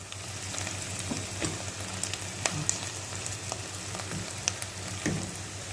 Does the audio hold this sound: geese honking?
no